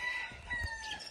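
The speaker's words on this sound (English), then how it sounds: "Y'all hear the roosters?" Roosters crowing in the morning in Puerto Rico, faint and distant over a quiet outdoor background, the calls drawn out and overlapping.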